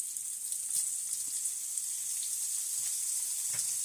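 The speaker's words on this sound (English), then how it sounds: "Okay, now it's time for the sausage." Smoked sausage frying in a pan for a potato hash, giving a steady, fairly quiet sizzle with small crackles and pops throughout.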